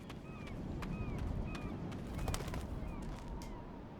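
Birds in the video game Life is Strange chirp faintly in short, evenly spaced calls, with a few sharp clicks and a low background rumble.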